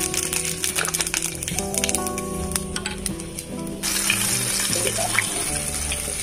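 Panch phoron spices hitting hot oil in a pan, a bright, loud sizzle that holds steady and then flares up more intensely partway through, close up with no speech.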